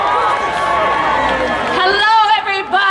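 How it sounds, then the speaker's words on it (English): A rally crowd in Union Square, New York, at a 2018 marijuana legalization event cheers and applauds loudly, a dense sustained roar of voices and clapping with a few higher shouts rising near the end. "Round of applause."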